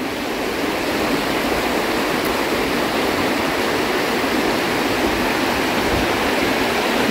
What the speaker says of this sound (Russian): Горная река шумит.